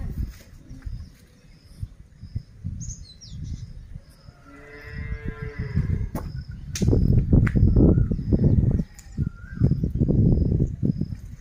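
Year-old Hallikar calves on a farm near Kengeri, south Bengaluru, give a drawn-out moo in the middle, over steady rustling and handling noise that grows louder toward the end. No one speaks.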